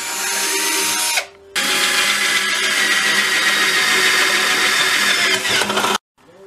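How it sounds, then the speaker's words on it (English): A power drill whirs at high speed drilling pilot holes in a metal coffee can, in two bursts, a short run, a brief pause, then a long steady drilling stretch before it cuts off. "I'm going to drill a pilot hole in each of these corners first."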